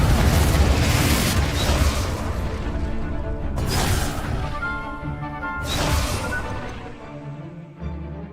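Repeated fiery Confringo spell blasts in Hogwarts Legacy, a steady roar of loud booming explosions with three sharper bursts spread across the stretch and a brief thump at the end.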